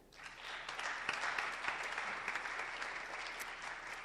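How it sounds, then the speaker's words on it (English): An audience at a high school Poetry Out Loud competition applauds a participant receiving a certificate. The clapping is dense and steady, sounds somewhat distant in the hall, and lasts about four seconds. "if we could please have a round of applause for Angelina Olinger"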